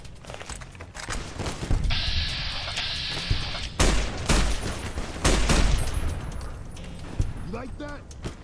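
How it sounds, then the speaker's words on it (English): Heavy gunfire in Fallout: New Vegas striking the player, loud overlapping bursts and shot impacts one after another, with a person talking over the barrage. "And I'm getting shot to shit."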